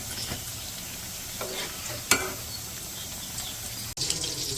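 Battered eggplant beguni for iftar sizzles in hot oil on a stove, a steady close frying hiss with occasional stirring clinks and one sharp knock.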